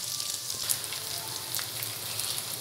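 Onions sizzle as they go into a pan of frying chicken, a steady, close crackling hiss that holds throughout with a few sharper pops.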